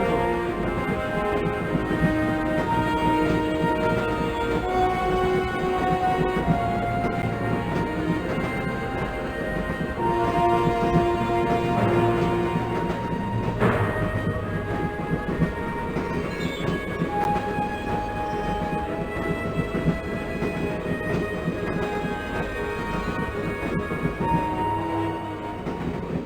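A train carriage rolls steadily along in the 1996 Windows adventure game Broken Sword, a continuous rumbling rail ride layered with tonal musical score, no talking, holding an even level throughout.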